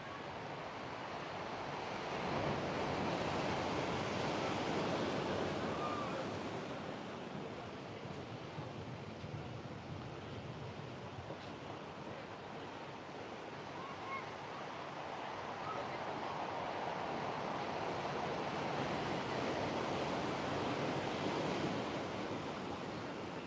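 Big Atlantic waves crash and wash onto the rocky shore at Callao Salvaje, a broad roaring surf that swells, eases and builds again, heard close up with some wind buffeting.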